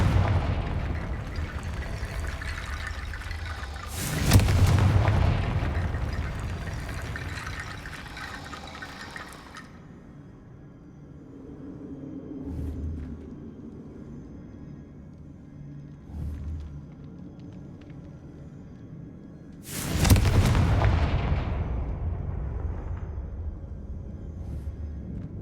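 Confringo fire spells in Hogwarts Legacy set off two loud, booming explosions about fifteen seconds apart. Each blast is a sudden roar that trails into a rumbling, watery wash, with quieter low thuds between them.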